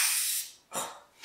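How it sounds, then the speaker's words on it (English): Liquid Wrench penetrating oil sprayed from an aerosol can onto control arm bushings of a Tri 5 Chevy project car: two close, loud hissing bursts, the first long and the second shorter, with a third starting at the end. "okay, I just sprayed it everywhere"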